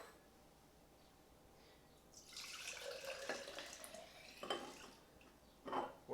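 Freshly made juice from a masticating juicer being poured into similar-sized containers, a liquid trickle that begins after a quiet stretch, swells, then breaks into splashes and clinks of the containers being set down.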